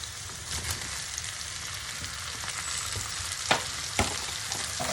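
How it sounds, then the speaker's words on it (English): Sliced peppers and onions fry in a hot pan, giving a steady close sizzle with occasional sharper pops and stirring clinks, no voices. "we're going to add in sliced peppers and onions to the pan"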